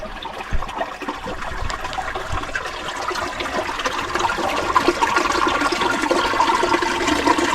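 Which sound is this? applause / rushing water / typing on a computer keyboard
rushing water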